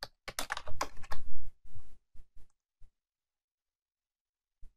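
Keys on a computer keyboard are tapped out in a quick burst of typing a custom lock-screen message, then a few slower separate keystrokes with a long pause before one final tap; close and clear, no talk.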